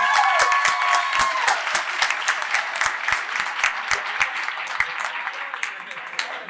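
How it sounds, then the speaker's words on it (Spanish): A crowd at a podcast event gives loud, sustained applause for a law professor being introduced, dense clapping throughout with sharper individual claps standing out, a voice briefly heard at the start. "Un fuerte aplauso."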